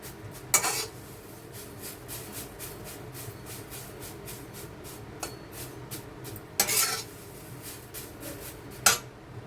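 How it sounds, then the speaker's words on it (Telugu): Ponnaganti and drumstick leaves frying in a pan, a low steady sizzle broken by a few sharp metallic scrapes and clinks of a spoon against the pan, with no talking. "పొన్నగంటి ఆకు, మునగాకు 3 వేసేసుకొని ఫ్రై చేసుకుందాం"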